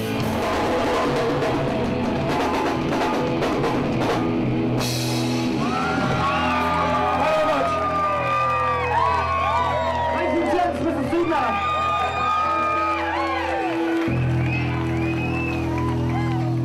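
A crowd cheering and whooping at a rock and roll performance, a dense wall of yells and shouts over loud muffled music and thumping, with voices talking through it.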